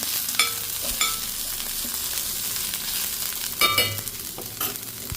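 Broad bean curry sizzles and fries in a pan while a spoon stirs it, scraping and tapping against the metal every so often, with a steady hiss underneath, close and fairly loud, and no voices.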